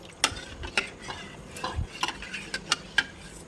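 Spoon clinks and scrapes against a glass while Rooh Afza sherbet is mixed, a series of sharp, bright taps spaced irregularly over a few seconds, close and fairly quiet with no talking.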